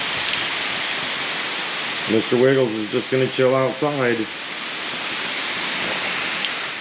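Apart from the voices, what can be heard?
rain falling outside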